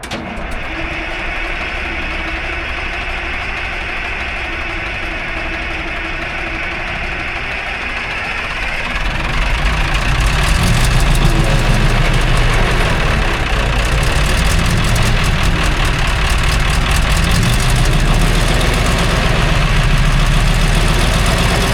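A 1960s military crane with only 81 original hours, long left sitting, its engine idling loud and steady, then surging into a heavier, rougher rumble partway through.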